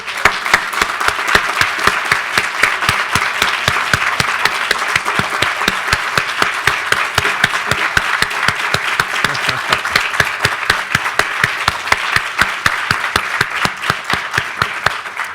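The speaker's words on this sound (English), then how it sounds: "we will give you a big applause" Audience applause for family members standing at a university hall dedication, a large crowd clapping loudly and steadily for about fifteen seconds with sharp individual claps throughout and no talk.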